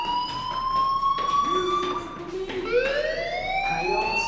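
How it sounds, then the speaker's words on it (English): A school fire alarm in the game Life is Strange sounds continuously, with a pulsing electronic tone and shifting pitched wails, loud and steady, with faint background sound beneath. "Hey, do you hear that fire alarm? That means you should be outside."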